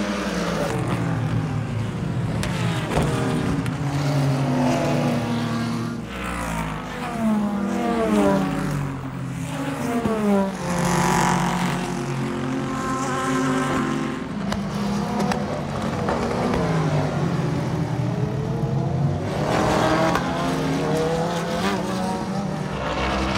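A supercharged Audi R8, a rebuilt salvage-auction car, drives hard along a twisty stretch of road, its engine roaring loudly and continuously, rising and falling through gear changes and corners with a brief tire squeal.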